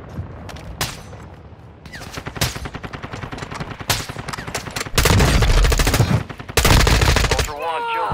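Gunfire in the Call of Duty DMZ video game: loud, dense bursts of automatic shots crackle in rapid rhythm with short gaps. The heaviest volleys come near the end, followed by a brief trailing sound.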